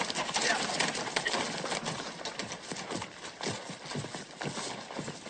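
A horse's hooves clip-clop in a steady walking rhythm in a 1990 Western, quiet and fairly distant, with faint bird cooing in the background.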